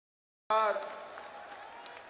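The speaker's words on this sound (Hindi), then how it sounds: "आप सहमत हैं तो दोनों हाथ उठा के ताली बजा के" A crowd at a political rally in Raipur claps in a sudden loud burst that settles into sustained applause, with a voice sounding over the start.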